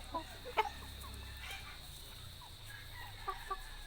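Brahma chickens cluck in short scattered bursts over a quiet farmyard background hum, a few calls close by and others fainter.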